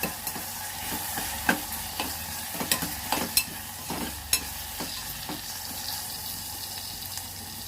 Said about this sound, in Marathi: एक चमचा मीठ घालते अर्धा चमचा हळद मस्त असं मिक्स करू आपण